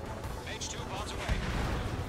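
Bombs dropped from a jet in the Ace Combat 7 video game burst into a dense, rolling rumble of explosions, with a heavier boom near the end.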